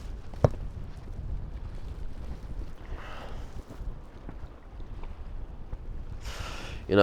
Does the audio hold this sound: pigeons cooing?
no